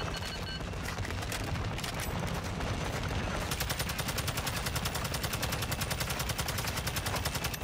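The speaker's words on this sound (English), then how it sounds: "We'll gun him down." Sustained rapid automatic gunfire from the Call of Duty DMZ video game, dense and continuous, settling into an even, steady rattle for the second half.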